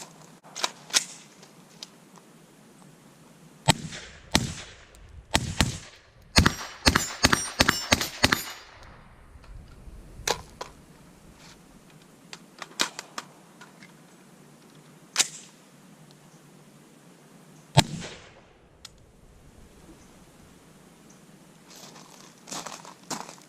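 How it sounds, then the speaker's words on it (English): A suppressed PSA JAKL rifle fires 55 grain Tula rounds, with sharp muffled reports spread unevenly and a fast cluster of shots in the middle, all fairly close with no talking. "So run some more rounds through here, shooting 55 grain Tula, and we'll also do some M193."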